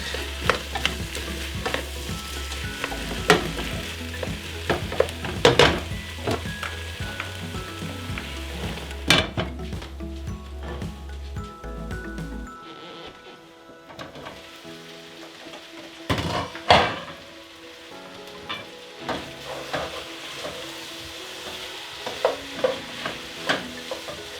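Vegetables for beef barley soup sizzle in a pot while a spoon stirs them, with scraping and clunks over steady frying; midway the sizzle drops away, leaving quieter stirring knocks and scrapes.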